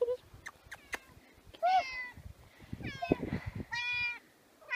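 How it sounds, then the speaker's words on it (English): A cat at a horse barn meows several times up close, short rising cries spaced across the moment, with a person speaking softly between them. "There's my cat."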